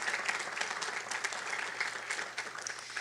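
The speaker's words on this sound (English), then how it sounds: "If we could give them a round of applause." Steady, dense applause from a conference keynote audience thanking the organizers, many hands clapping together in a continuous rolling wash that holds even throughout.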